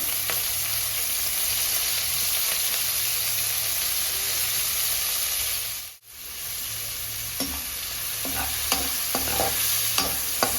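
Ghusa fish fry in a small amount of hot oil in a nonstick pan, giving a steady close sizzle that runs throughout, briefly cut off once before resuming with light clinks and stirring.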